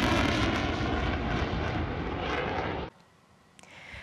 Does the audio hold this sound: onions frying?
no